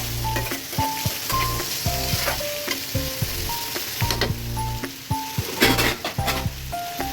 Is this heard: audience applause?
no